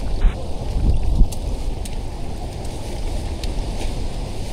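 Strong wind blows across an island in a continuous low rumble and buffets the microphone, loudest near the start, with faint rustling above it. No clear voices.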